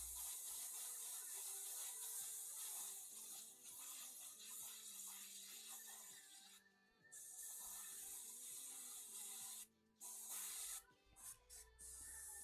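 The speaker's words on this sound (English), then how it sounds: "Come on, Airbrush, don't fail me now." An airbrush sprays paint onto Warhammer 40k Necron miniatures with a steady close hiss that runs almost continuously, broken by a few brief pauses near the end.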